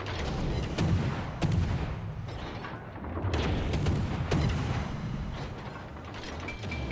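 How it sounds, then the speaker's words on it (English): Bursts of gunfire and heavy booms from a video game firefight, rolling in repeated volleys at moderate loudness with rumbling impacts between them; no talk. "I am taking fire from somebody"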